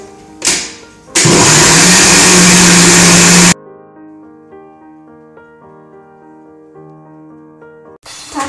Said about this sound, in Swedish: Nu blanda det väl med hjälp av blender.